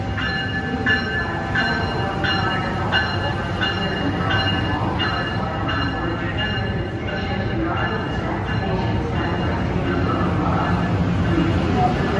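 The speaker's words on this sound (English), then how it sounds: "3719 is waiting for this inbound transit to arrive, coming in on track 7." An inbound NJ Transit train pulls into NY Penn Station on track 7, giving a steady, loud rail rumble with ringing metallic tones throughout and faint background murmur.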